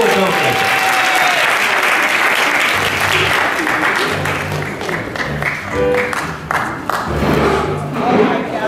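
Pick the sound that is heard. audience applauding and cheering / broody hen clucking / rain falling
audience applauding and cheering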